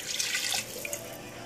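Water splashes from a cup into a pot of chili that already holds beef broth and crushed tomato puree, a short bright pour that fades out near the end; nobody talks.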